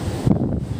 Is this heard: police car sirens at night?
no